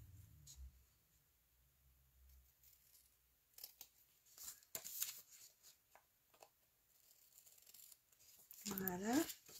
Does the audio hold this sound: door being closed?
no